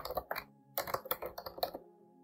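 Rapid keystrokes on a computer keyboard enter a rule name in a Hubitat home automation tutorial, a close, crisp burst of typing with a short pause midway and then silence.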